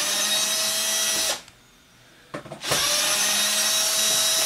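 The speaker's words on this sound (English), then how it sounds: "So I just removed 9 screws" A power screwdriver whirs steadily while backing screws out of an Xbox 360 console, stopping briefly for about a second before starting again, close and loud.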